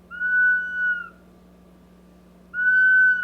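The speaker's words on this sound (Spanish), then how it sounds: "el instrumento sonó y nos encontramos ante la maravilla de las vasijas silbadoras" A Latin American indigenous ceramic whistling vessel, sounded by adding a drink, gives two clear, loud, steady whistle tones separated by a pause, with nothing else heard.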